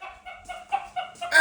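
A pet rooster clucks in a quick series of short, close, fairly loud calls, ending in a louder, harsher squawk.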